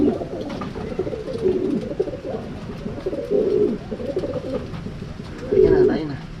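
Racing pigeons cooing steadily at close range, soft repeated low coos in a crowded loft, with someone talking over them now and then.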